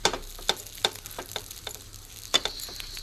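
Bread toasting in butter in a hot pan for avocado toast, giving a soft sizzle broken by several sharp clicks and scrapes as the slices are pressed and turned, close by with no talking.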